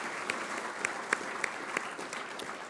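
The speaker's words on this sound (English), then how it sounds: "So please join me in a round of applause for them as well." Steady applause from an audience at a naval institute annual meeting, a dense wash of clapping with a few sharper claps standing out, moderately loud and continuous throughout.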